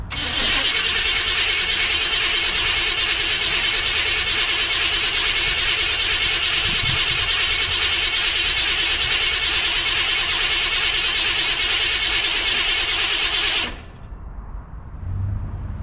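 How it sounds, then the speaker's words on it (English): A 1984 Chevy Silverado with a swapped-in 350 engine is cranked and run close by, producing a loud, steady mechanical roar for about fourteen seconds before it abruptly cuts off into quiet. "So I'm gonna shut this up right here and see if this thing will start."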